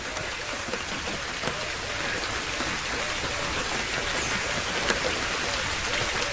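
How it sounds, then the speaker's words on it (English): Rain falling steadily on a river, a dense, even hiss of countless raindrops striking the water's surface, continuous and fairly loud, with no voices. "there's a whole raindrop ballet going on all down the river"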